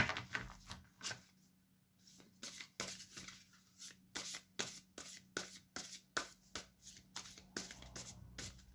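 Oracle cards are shuffled by hand in a quiet room. The soft, papery riffles and taps come in a steady, irregular rhythm, close and fairly faint, with no one talking.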